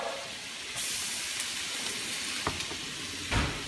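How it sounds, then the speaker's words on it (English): Garlic sizzles in hot butter in a hot pan, a continuous loud crackling hiss with a few sharper pops and stirring scrapes, heard alone without speech. "Okay, and to that we're going to add some garlic,"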